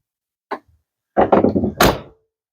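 A storage compartment door on a Prime Time Crusader 275RDD fifth-wheel RV swings shut onto its slam latch. A faint click comes first, then a series of loud, close rattling thunks ending in a sharp latching bang.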